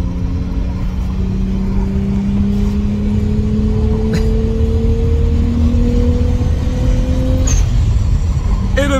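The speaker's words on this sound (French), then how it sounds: "Et le petit retour de flamme qui était là." A car with an RB25 engine drives under load with a loud, steady engine drone whose pitch climbs slowly, and a couple of faint, brief pops sound near the end.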